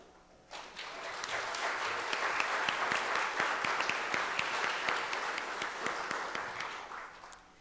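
Audience at an outstanding alumni and teacher/mentor awards ceremony applauding honored teachers and staff, a sustained crowd ovation of dense, steady clapping that starts abruptly and holds loud for several seconds before easing slightly.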